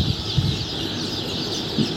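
Many naked neck Sonali hybrid chicks, a cross of desi naked neck hens, gathered at a farm before delivery, make a dense, steady chorus of peeping that runs without a break.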